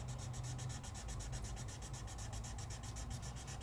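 A paper stub rubs colored pencil blended with Gamsol on vellum, making a soft, steady rhythmic scrubbing that is close, faint and without talk.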